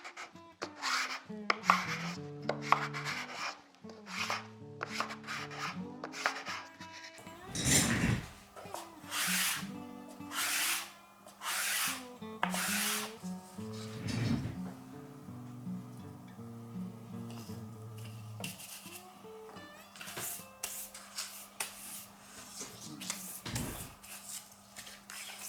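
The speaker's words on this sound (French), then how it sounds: "Et là, on ponce jusqu'à ce qu'on n'ait plus de sueur noire." A pink ivory wood rosette is sanded by hand with rough, rhythmic rubbing strokes, close and fairly quiet, broken by pauses and a few knocks and handling bumps.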